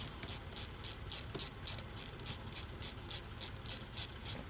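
A ratchet tightens a front fuel line fitting on a Nissan Stagea, its pawl clicking in a steady, rapid rhythm throughout, close and fairly loud with no talking.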